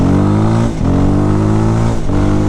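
Voge 300 Rally motorcycle engine under hard acceleration, loud and close, with two brief dips in pitch as gears are shifted without the clutch by briefly cutting the throttle.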